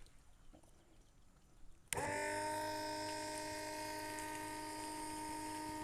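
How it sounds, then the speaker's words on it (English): A multi-use transfer pump starts abruptly after quiet background and runs with a steady loud electric whine and hum while pushing water through a 15-foot hose and a 50-foot garden hose. "y'all can see that's pumping a good amount of pressure there"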